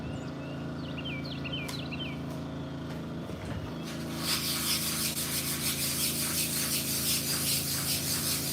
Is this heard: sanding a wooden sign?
yes